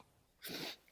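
A single short, breathy sneeze bursts out abruptly against a quiet background and fades within a quarter second.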